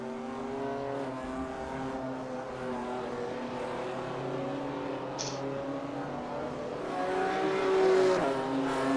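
Race cars in a Clubsport series circuit race hold a steady, droning engine note that rises and falls through the gears and swells near the end as the cars pass, heard from a distance.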